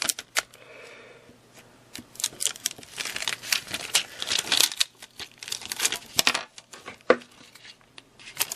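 Cut vinyl is peeled and weeded off its backing sheet, giving irregular crinkling, crackling and soft tearing with sharp little ticks, close and quiet, with no talk.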